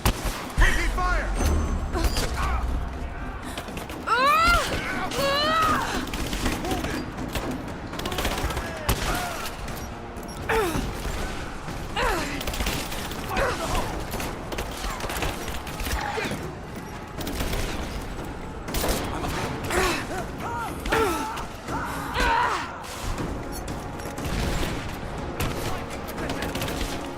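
Gunfire in Rise of the Tomb Raider rattles on and off throughout a long, busy stretch of combat, mixed with explosions and game effects, while character voices call out over the shooting.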